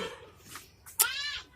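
A short, bleating animal cry with a wavering harmonic tone rises near the end, after a few softer rustles and a brief sharp sound.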